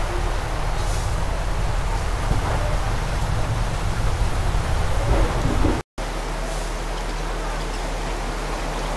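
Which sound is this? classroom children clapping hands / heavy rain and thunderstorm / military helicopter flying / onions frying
heavy rain and thunderstorm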